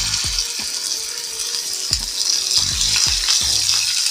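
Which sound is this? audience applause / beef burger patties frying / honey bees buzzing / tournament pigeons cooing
beef burger patties frying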